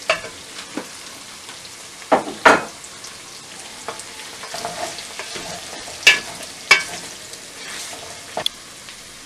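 Tomato and pepper paste frying with browned onions for a meat stew, a low sizzle broken by repeated sharp scrapes and clacks of stirring against the pan.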